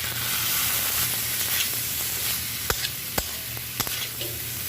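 Paneer and boiled potato being fried and stirred together in a pan: a continuous close sizzle with a few sharp scrapes and taps of a spoon against the pan.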